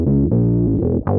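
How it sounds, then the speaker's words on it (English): A bass guitar plays a short phrase through a Source Audio distortion pedal and an EBS envelope filter, giving thick, fuzzy notes with a sweeping, vowel-like wah on each attack. "I'm using these two pedals. This is a source audio distortion pedal, and from there I'm going into an EBS envelope filter"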